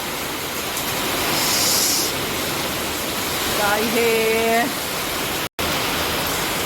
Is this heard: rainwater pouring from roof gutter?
yes